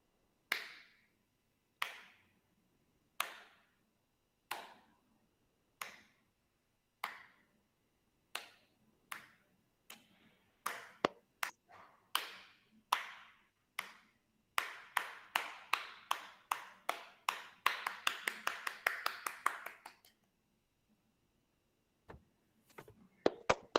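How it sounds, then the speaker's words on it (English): Hand claps ring out alone in a steady rhythm, spaced evenly at first, then coming faster and denser before breaking into a rapid flurry and stopping. "I will start clapping"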